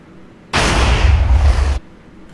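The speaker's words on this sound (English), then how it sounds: "Now another use of this is a world border cannon" A Minecraft world border cannon fires in the game: one loud, abrupt burst of roaring explosion noise that lasts about a second, then cuts off sharply into quiet.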